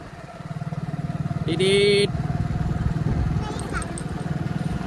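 A motorbike ridden along a rough, potholed road at the Vautha fair, its engine puttering in a steady rapid pulse close by, with a brief horn beep and voices talking over it.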